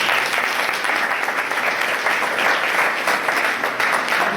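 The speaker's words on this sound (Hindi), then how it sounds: "तालियां मिलें।" An audience at a Sunday church service claps with dense, steady applause from start to finish, loud and close, with no talking over it.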